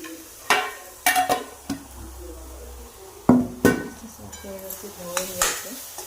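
Onion paste stirred into hot oil in a pan for village-style egg curry, with a spoon scraping and knocking against the vessel in uneven clanks over a soft background sizzle.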